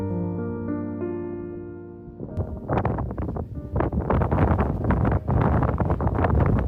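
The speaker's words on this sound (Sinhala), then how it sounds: "මෙතනත් මාර්ම හුළඟක් තියෙන" Powerful gusts at the Riverston viewpoint pound the microphone in loud, ragged bursts, following a couple of seconds of steady tonal music at the start.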